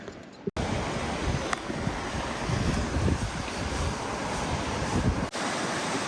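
Steady broadband rushing of a waterfall near the Trollstigen road in Norway, a constant roar mixed with wind buffeting the microphone, continuous and fairly loud with no voices.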